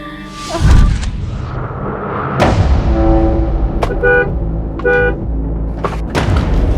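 A car horn sounds in several short honks and one longer blast on a street where a car is stopped in the middle of the road, loud over steady traffic and engine noise.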